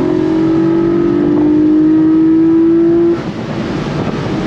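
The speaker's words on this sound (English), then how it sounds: "Love the sound of that engine. One of the best sounds ever." A Porsche Boxster GTS flat-six engine holds a loud, steady whine with a rising tone that cuts off abruptly, leaving a rougher engine rumble and wind noise.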